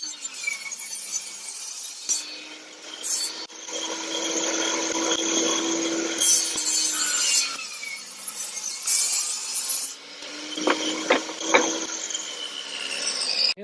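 A saw cuts wood pieces fed along a saw guide and slide, giving a steady whining, rasping cut that swells and fades over several passes, close and fairly loud with occasional sharp knocks.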